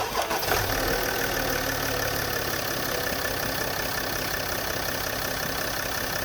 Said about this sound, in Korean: 엔진 소리부터 들어보시겠습니다.